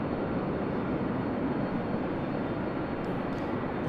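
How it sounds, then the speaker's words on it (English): An Airbus A319 airliner arriving at LAX gives off a steady, distant broadband jet roar, continuous and fairly faint, with no talk. "That flight coming in from Denver, flight 2776 and that A319."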